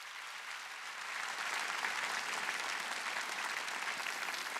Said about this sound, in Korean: 성가대에게 박수 좀 보내주세요.